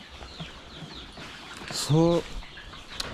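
A single chicken gives a short, loud cluck-squawk close by in a crowded coop during night vaccination, over a quiet background murmur.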